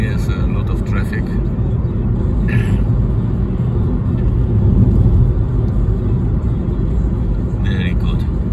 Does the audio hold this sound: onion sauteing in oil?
no